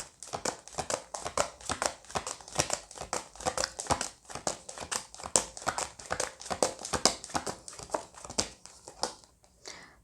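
Tarot cards being drawn and shuffled from a deck, a quick run of soft papery slaps and flicks at a brisk uneven rhythm, close and quiet with no talking.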